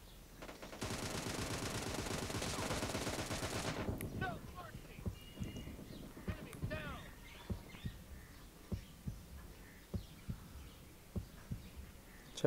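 Automatic gunfire from an M762 rifle in PUBG Mobile team deathmatch, a loud sustained burst for several seconds followed by scattered single shots and short clusters of reports, with faint game sounds between.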